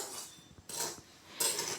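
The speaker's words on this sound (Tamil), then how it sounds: "நல்லா மிக்ஸ் பண்ணிக்கோங்க." Spoon scraping and clinking against a bowl while rava laddu mixture is stirred, a few short close scrapes in quick succession.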